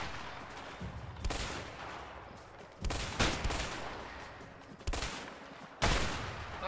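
Sharp bursts of gunfire from the video game A Way Out crack out every second or so, each followed by a rolling echo, with no talking.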